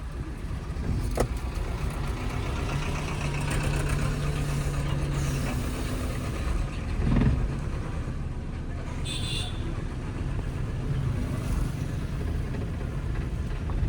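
A car engine idles steadily during a driving lesson, a low continuous hum close by with a brief rise in revs midway, while instructor and learner talk over it.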